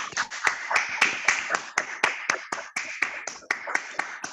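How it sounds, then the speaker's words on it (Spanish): Sharp, distinct handclaps ring out in a quick irregular rhythm, close and fairly loud, as a small audience applauds two presenters, with clear gaps between the individual claps. "el aplauso ahora, ¿eh? El aplauso para las dos"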